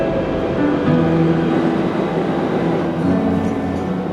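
Steady, loud rumble of a Seoul metro subway train riding along, with droning low hum and tonal whine layered over continuous rolling noise, no talk.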